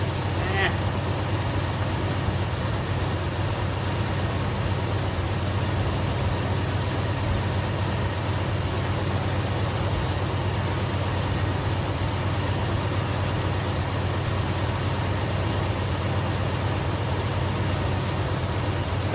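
A Ford crew cab truck engine idles steadily with a low continuous rumble while the transmission is shifted into reverse, close and constant with no distinct gear clunk standing out.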